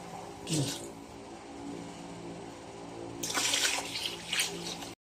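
Water is poured into a cooking pot while pancit is being made, giving a brief splash and then a steady stream that swells toward the end.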